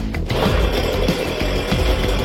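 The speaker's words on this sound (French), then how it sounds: "Une tronçonneuse." A chainsaw roars steadily at close range on a desert island, its loud, rough motor buzzing without pause.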